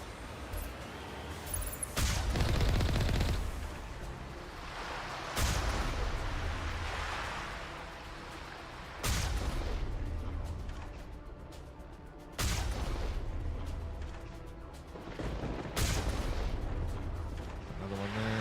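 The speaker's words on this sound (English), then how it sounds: "We must find a way to disable their artillery." Heavy artillery shelling in a Mass Effect battle, with several big booming impacts spaced a few seconds apart, each loud blast trailing into a rumbling decay under steady background combat noise.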